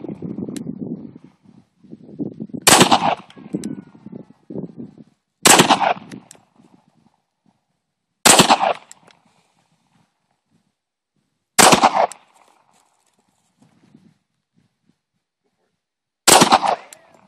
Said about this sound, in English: Dude, I hear ricochets, man.